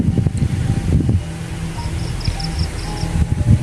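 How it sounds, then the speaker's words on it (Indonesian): Strong wind buffets outdoors, a loud, continuous low roar and rumble with gusty surges, close and unbroken for the whole stretch. "Ini angin kencang nih, Masya Allah."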